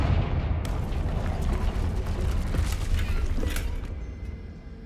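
A Confringo fire blast spell in Hogwarts Legacy sends out a sustained roaring, rumbling burst with crackling impacts that fades toward the end, heard alone without talk.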